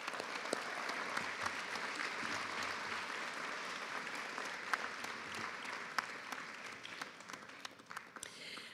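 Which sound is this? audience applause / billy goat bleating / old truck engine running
audience applause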